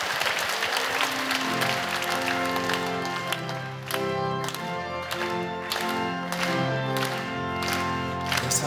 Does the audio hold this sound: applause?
yes